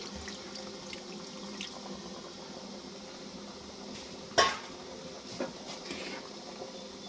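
Spiced water is poured into a pot of chicken curry with potatoes, a faint steady pour broken by a sharp metal clink and a softer knock, with no talk.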